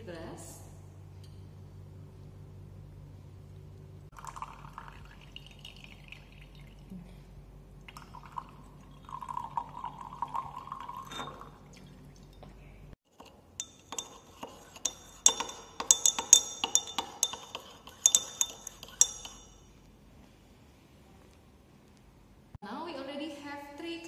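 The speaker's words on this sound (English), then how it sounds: "We will pour some water into the big glass." In a lab, water is poured from a measuring cylinder into a big glass, with a short run of trickling and light glassy clinks in the middle, between quieter stretches where a voice is heard.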